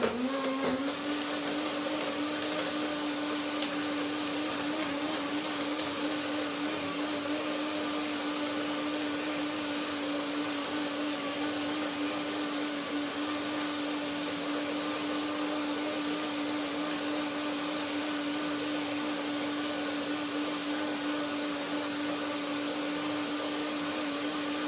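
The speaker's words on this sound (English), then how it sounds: "So one more blender dance and one more blending." A blender blending cashew chocolate sauce runs continuously at high speed, a loud steady whir with a constant motor pitch that barely changes from start to finish.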